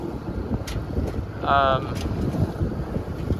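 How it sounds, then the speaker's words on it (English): Steady wind roars across the microphone aboard a sailboat heading into a headwind, a broad constant rush with the hiss of water beneath and a brief tonal whine partway through. "the wind is coming basically right in front of us right now"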